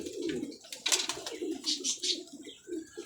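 Highflyer pigeons in a loft coo in low, repeated throaty phrases, close by, with scattered higher chirps and rustling between the calls.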